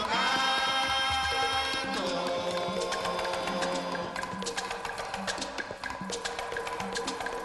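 Dense, layered hand percussion in Havana-style guaguancó with sharp repeating slaps and tones over a steady groove, joined by melodic instruments in a lively rumba feel.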